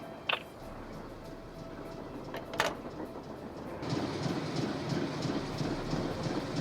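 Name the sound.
train running in the Nancy Drew video game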